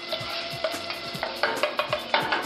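Onion frying in oil in a pan, a steady sizzle punctuated by a regular series of sharp scraping or stirring knocks that grow louder toward the end.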